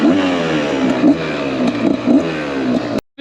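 An enduro motorcycle revs and accelerates up close, loud engine drone rising and falling in pulses for about three seconds before cutting off abruptly, with no talking.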